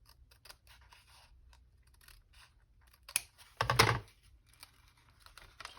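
Paper being trimmed for a junk journal made from junk mail: a quiet run of soft snips and rustles, then a louder, brief cutting burst near the end, heard up close with no talking.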